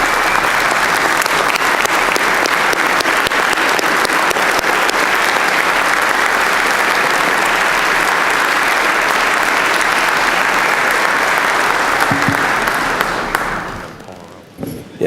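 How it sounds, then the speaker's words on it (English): At a retirement tribute to Sharon Schwartz and her family, an audience claps loudly and steadily for about thirteen seconds, a dense, unbroken roar of hands that then tapers off into quiet. "Please join all of us in a well-deserved round of applause for Sharon and her family."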